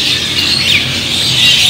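At the Pasar Lembang bird market, Javan mynas and other caged birds chirp and squawk in a steady, fairly loud chorus, with a brief swooping call standing out near the middle.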